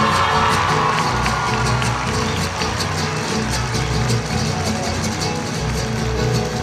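Loud concert crowd at a show in Aguascalientes, a dense sustained wash of cheering, whistles and applause for the guitarist, continuous and enveloping with no break.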